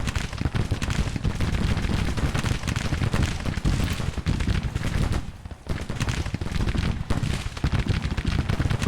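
Continuous artillery and cannon fire in the Civil War strategy game Grand Tactician, a dense, loud barrage of overlapping booms and crackling volleys that runs almost without pause, dipping briefly before resuming.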